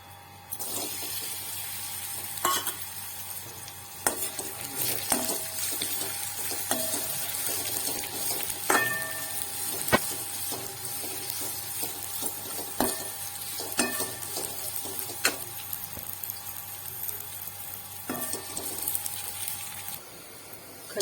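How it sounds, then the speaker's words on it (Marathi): Dates roasting in ghee in a pan give a steady sizzle under repeated stirring, with the spoon scraping and clinking against the pan at irregular intervals, close and fairly loud for about twenty seconds. "थोडंसं आणखीन तूप टाकून आपण खजूर भाजून घेणार आहोत"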